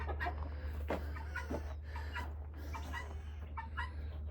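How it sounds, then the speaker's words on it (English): Several chickens cluck softly in short, irregular bursts over a low steady hum, fairly quiet and close. "now these are some good chickens"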